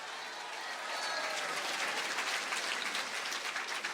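A crowd applauds, clapping that swells and keeps going steadily, fairly close, with no voices on top.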